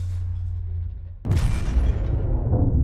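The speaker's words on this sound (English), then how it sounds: "there was a thunderous explosion" A thunderous bomb blast against the USS Cole warship erupts after a low rumbling hum, a sudden loud broadband boom that keeps roaring and rumbling heavily for over a second without fading.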